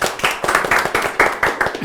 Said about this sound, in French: Mais ça s'applaudit quand même.